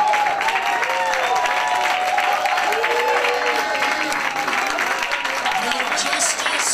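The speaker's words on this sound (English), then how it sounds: "I want you to stand to your feet, I want you to clap your hands" Audience at a civil rights rally clapping loudly and steadily throughout, a dense sustained applause with crowd voices and cheering mixed in.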